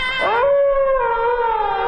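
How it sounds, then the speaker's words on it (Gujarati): A single dog howls in a long, rising then sustained mournful wail, loud and close and alone, used as an eerie horror sound effect. "કૂતરાઓ રડવા લાગે છે,"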